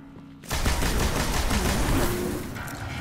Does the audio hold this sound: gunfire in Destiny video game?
yes